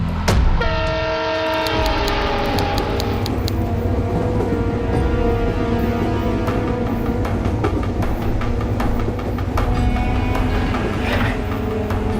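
A train runs steadily on the rails in a TV crime drama, with loud, continuous rolling rumble and clatter, a sustained horn-like tone and rhythmic wheel clicks throughout, no voices.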